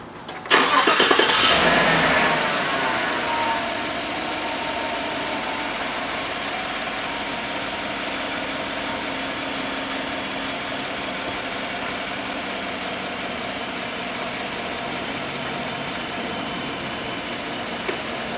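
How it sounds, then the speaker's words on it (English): A 2014-or-later Chevrolet Silverado or GMC Sierra pickup with a 5.3L EcoTec3 engine cranks and catches with a loud burst, then settles into a steady, low idle that rumbles on evenly. "Now we just got to turn the truck on and check for any air leaks."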